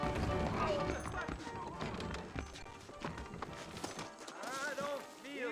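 Horse hooves clip-clop in a quick, uneven rhythm in the Western video game Red Dead Redemption, mixed with snorts and a whinny, and a voice talks over them.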